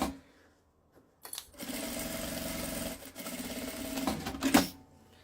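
A domestic sewing machine stitches a seam with backstitching at the start, a fast rattling whirr in bursts that briefly pauses and restarts, close and fairly loud, with no voices.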